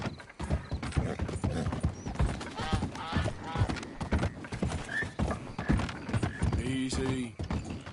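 Horse hooves clip-clop at a gallop in Red Dead Redemption 2, loud and steady throughout, with a neigh near the end and a rider's voice urging the horse on over the hoofbeats.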